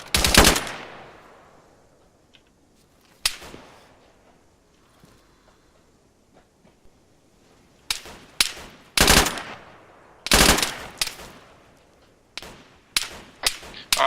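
Bursts of automatic gunfire and single shots in a modern military shooter game ring out loud and close, separated by quiet gaps, with rapid clustered volleys toward the end.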